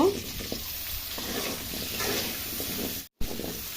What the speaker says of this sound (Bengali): আলুগুলো লাল লাল হওয়া অবধি নেড়ে চেড়ে ভেজে নিব।